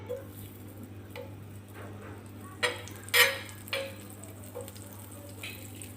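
Butter sizzling in a nonstick frying pan on a gas stove, a soft steady frying hiss with a few scattered clicks and light utensil taps, close and quiet, no voices.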